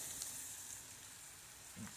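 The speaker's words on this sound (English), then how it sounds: "We're going to let that onion cook up, okay?" Chopped onion fries in a hot pan for ramen noodles, giving a steady, quiet sizzle with a brief stir-like clatter near the end and no talking.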